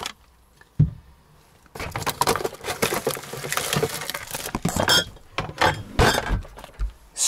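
Glass beer bottles clink and knock together as they are unpacked into a camper van fridge: one sharp knock, then a busy run of rattling clinks and glassy taps, close and fairly loud, with no talking.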